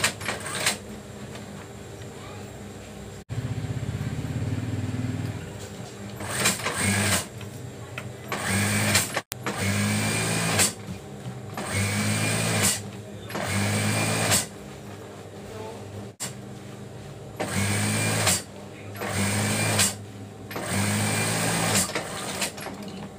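Sewing machine stitching along the zipper edge of a quilt cover: repeated bursts of fast, loud mechanical whirring, each lasting a second or two, separated by short pauses and handling noises.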